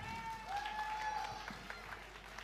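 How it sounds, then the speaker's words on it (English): Audience applause at an evening cultural show of a Ganesh festival in Ballarat, a steady wash of clapping lasting a couple of seconds, with a faint tone and some voices in the crowd. "give them a big clap"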